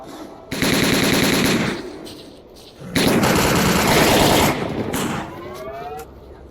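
Machine gun fire in the shooter game S.T.A.L.K.E.R. Call of Pripyat during an evacuation fight, two loud sustained bursts of rapid shots separated by a short pause, then fainter trailing shots and whistling tones.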